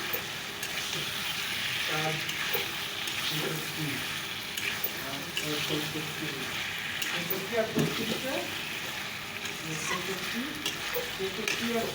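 Chicken sizzling and frying in a pan, with steady crackling and occasional stirring scrapes throughout, while a person talks intermittently nearby.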